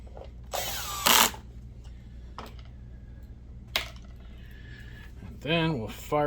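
A power drill drives screws into a JVC DLA-RS57U LCoS video projector under repair, giving two short, loud whirring bursts near the start and a rising whine near the end, with quieter clicks and handling noise between.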